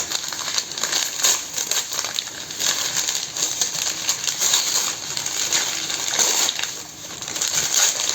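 Paper packaging of an advent calendar gift is torn and unwrapped close by, giving continuous loud crinkling and rustling for several seconds, with no talking.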